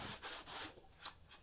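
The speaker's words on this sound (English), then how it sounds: "I pretty much just sand down the groove I cut" Brief soft rubbing strokes of sandpaper smoothing a cut groove in a piece of wood for a hexagon honeycomb dresser, a few quiet back-and-forth passes with a small scratch near the end.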